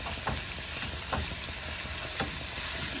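Ground pork fries in a pan with a dense, steady sizzle close by, broken by a few soft taps and scrapes as it is stirred and broken apart.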